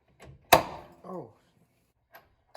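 Sharp loud pop from a Mazda Miata outer tie rod breaking free of the steering knuckle under a separator tool, a single close crack followed by a short ringing tail and quiet.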